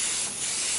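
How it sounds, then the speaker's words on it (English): Short burst of MAN 200 mold release spray from an aerosol can, a close, loud, continuous hiss lasting under a second. "Go ahead and hit it with my release anyway. This is a MAN 200 release spray."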